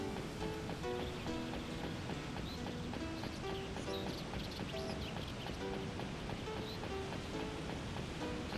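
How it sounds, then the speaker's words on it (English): Steady water flow in Shenmue II runs evenly as a continuous wash, with soft music notes drifting over it. "following the sound of water is always good"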